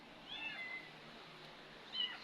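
A cat gives two faint, thin meows, one early and one near the end, over a quiet room with no talking.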